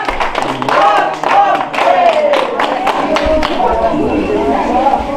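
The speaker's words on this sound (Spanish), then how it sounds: "Ahí está el aplauso, pues." A crowd claps at a San Antonio de Padua romería, giving loud, close, rhythmic applause mixed with chatter and a voice talking over it.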